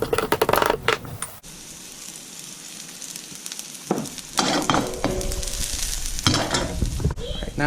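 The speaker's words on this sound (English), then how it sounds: "now we're going to let our broccoli rabe saute before we burn all of our garlic" Broccoli rabe and garlic sauté in a hot pan, sizzling loudly up close, with stirring and scraping clatters throughout.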